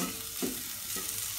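Turmeric and other spices frying in a pan for a bhaji, a soft, steady close sizzle with a couple of brief stirring scrapes.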